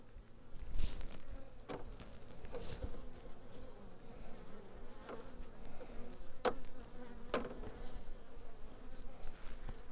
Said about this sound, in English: the bees will fly back into the hive because it's right next to their entrance